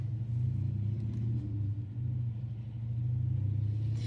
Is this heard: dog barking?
no